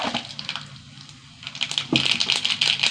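Mustard seeds crackle and pop in hot coconut oil, a dense sizzle of rapid crisp snaps that grows louder and busier partway through, close up with no talk.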